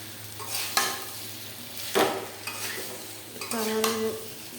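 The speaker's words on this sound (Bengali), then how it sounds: "মশলা দিয়ে একটু কষিয়ে নিয়েছি" Spice masala being sautéed in a pan, a low sizzle broken by several sharp scraping strokes of a utensil stirring against the pan, close and without talk.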